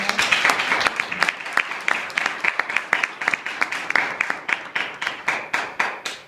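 An audience at a public meeting claps steadily, the dense applause thinning into scattered, separate claps toward the end with no talk over it.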